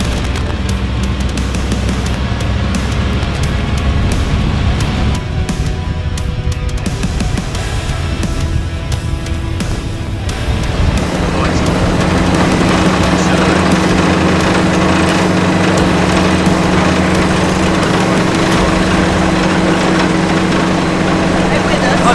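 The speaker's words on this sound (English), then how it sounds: "Rattling along here in this 1940s half-track." A 1940s half-track military vehicle rattles along a narrow country road, its loud, steady engine drone and clanking continuous throughout and close by, with the tone shifting deeper partway through.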